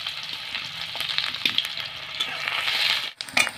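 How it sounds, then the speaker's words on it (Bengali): Chopped onion, garlic, ginger and green chilli fry in hot oil with a bright, continuous sizzle, broken by a brief pause and a couple of stirring scrapes near the end; no talking. "পেঁয়াজটা আমি হালকা ভেজে নিয়েছি।"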